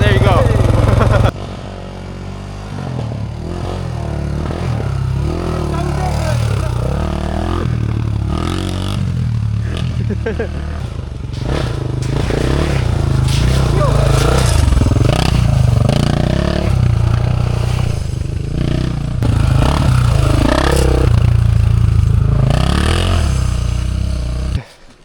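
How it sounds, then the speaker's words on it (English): An old dirt bike engine is kick-started and runs, a steady loud rough motor note lasting throughout, with people talking over it. "Hold that, and then kick it through a few times."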